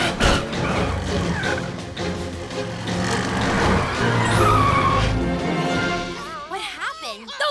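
Cartoon Cat Car from PJ Masks driving off with a loud engine roar and a skidding swerve, set under a busy music score that runs throughout the clip.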